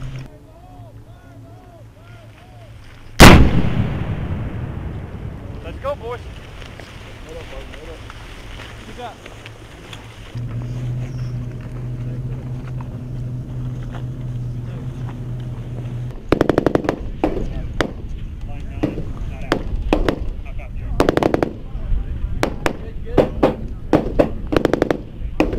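Live-fire gunfire and artillery at a U.S. Army combined-arms exercise: a sudden loud blast, then a steady engine drone and bursts of rapid automatic fire, with voices shouting commands over the noise.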